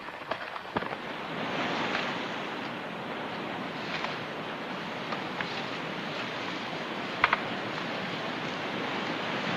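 Continuous ocean surf and wind roll across a beach on an island in a film, a broad steady wash with a few faint knocks, no voices.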